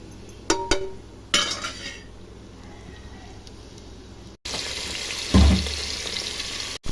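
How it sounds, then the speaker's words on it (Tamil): Cinnamon, clove and fennel drop into hot oil in a pressure cooker for chicken biryani. A few light clinks come first, then a loud, steady hiss of sizzling erupts partway through, with a brief thump. "குக்கரில் எண்ணெய் ஊற்றியாச்சு. பட்டை லவங்கம் சோம்பு போடுறோம்."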